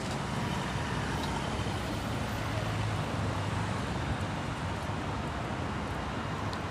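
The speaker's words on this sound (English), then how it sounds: "A lot of traffic." Dense city street traffic on Avenida da Liberdade in Lisbon rumbles continuously, with trucks, buses and cars passing in a broad steady roar and occasional brief hisses.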